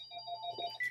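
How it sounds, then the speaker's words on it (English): A telephone ringtone chimes faintly in the background of an indoor room, a short electronic trill with a steady tone and a brighter burst near the end. "Sorry about the phone in the background."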